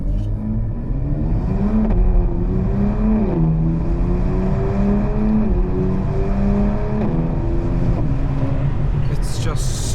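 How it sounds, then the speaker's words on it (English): BMW M2 with S58 engine and aftermarket exhaust pulling in sport mode under moderate throttle, a steady droning exhaust note rising through several gear changes, close and loud, with a voice talking over it. "I'm just going to moderately accelerate in sports mode"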